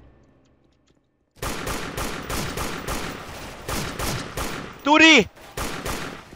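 Rapid single shots from an M1 carbine with bayonet in a Toy Soldier shooter game, a steady run of sharp reports after a quiet start, with a voice speaking over them and a brief rising whistle-like effect near the end.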